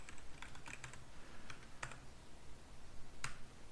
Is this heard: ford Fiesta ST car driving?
no